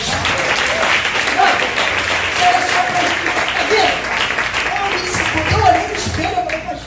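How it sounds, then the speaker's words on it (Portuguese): Steady applause from a church congregation in a Portuguese-language sermon, dense clapping filling the whole stretch at a fairly loud, even level, with faint voices mixed underneath. "dá uma salva de palmas para Jesus"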